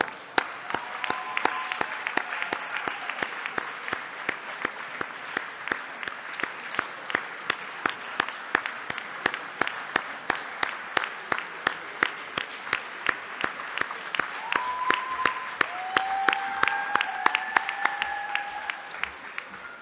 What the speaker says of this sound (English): Keep clapping. Don't get tired.